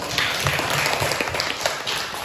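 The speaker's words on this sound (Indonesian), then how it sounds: "tepuk tangan dulu untuk Erma" Classmates clap for a student named Erma in a lesson, giving a brief burst of close, busy applause.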